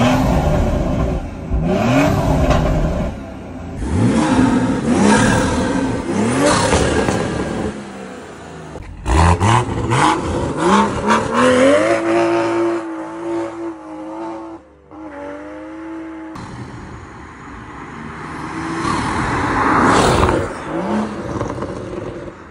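A 2023 Toyota Supra with a manual gearbox revs and accelerates hard, repeated rising engine pulls through the gears with brief pauses between shifts, loud and close with no talk over it.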